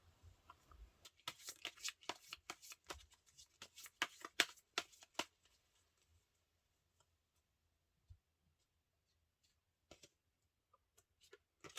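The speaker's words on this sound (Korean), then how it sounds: "카드 몇 장을 뽑아볼게요" Tarot cards are shuffled and drawn close by with no talking: a dense run of crisp riffling snaps over the first five seconds, then a few sparse, isolated card flicks.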